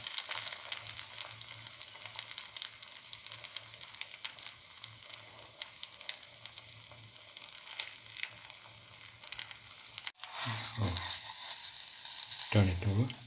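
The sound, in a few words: potato omelette frying in a pan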